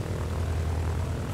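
Steady propeller engine drone of a Robin DR260 160 Capitaine light aircraft in Microsoft Flight Simulator, a constant low hum with no voices.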